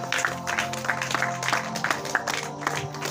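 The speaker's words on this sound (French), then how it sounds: "Acclame d'abord Jésus." A church congregation applauding Jesus during a French-language sermon, a dense, sustained burst of clapping from a crowd filling the room, with voices mixed in under the applause.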